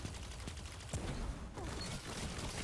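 Chroma Rush auto rifle firing in Destiny, rapid bursts of gunfire over a dense game soundscape, fairly close and continuous for a couple of seconds.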